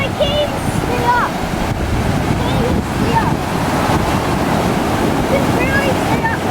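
Large, rough ocean waves crash on a beach in a loud, continuous churning roar with gusts of wind buffeting the microphone, while people call out faintly over the surf.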